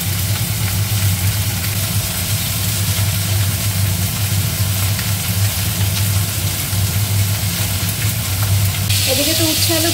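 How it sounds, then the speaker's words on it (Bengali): Bitter gourd and potato pieces frying in a pan give a steady, even sizzle under a low hum, close and fairly loud throughout, with a brief change in texture near the end. "এদিকে তো উচ্ছে আলু ভাজা হচ্ছে,"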